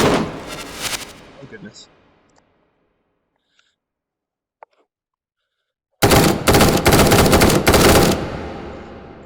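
Full-auto gunfire in the VR shooting game H3VR, a burst of rapid shots at first, then near silence, then another loud sustained automatic burst, with a brief exclamation from a man.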